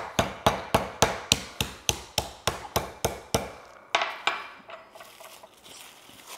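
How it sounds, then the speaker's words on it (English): A meat tenderizer's spiky side pounding a steak fillet under plastic wrap, a rapid regular series of about fourteen sharp close thuds, then a pause and a few softer, uneven taps. "Now you got to take the spiky side and just go over it."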